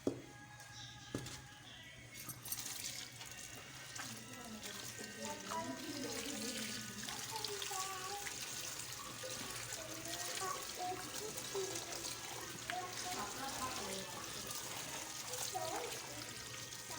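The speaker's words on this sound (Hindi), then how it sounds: "बस हम यहाँ साग को धो लेंगे अच्छी तरह से।" Mustard greens are washed by hand under a running kitchen tap, a steady close stream of water splashing and trickling into a sink with soft rustling of leaves throughout.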